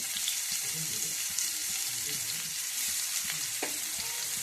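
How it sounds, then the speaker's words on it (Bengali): Chopped onion with a little sugar frying in a pan for a spinach paneer dish, giving a steady continuous sizzle with faint stirring scrapes and a soft clink near the end, with no talk. "এই যে পেঁয়াজটা একটু ভাজা ভাজা হচ্ছে"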